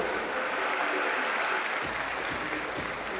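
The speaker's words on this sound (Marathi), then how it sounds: "यांच्यासाठी टाळ्या सुरू राहायला पाहिजे" Audience applause at an awards ceremony as the runners-up from each category walk onto the stage: a dense, sustained wash of clapping from a large crowd, filling the hall evenly from start to finish.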